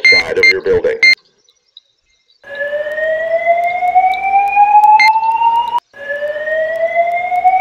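A fire alarm in the Roblox video game blares as a loud electronic siren of repeated rising sweeping tones with a brief break between cycles, after a moment of talk and a short silence.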